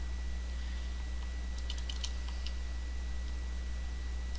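Light, quick clicks of typing on a computer keyboard, a short burst of keystrokes heard fairly close over a steady electrical hum, with no talking.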